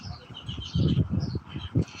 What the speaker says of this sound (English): with the birds, the sparrows more specifically, chirping away for all of our ears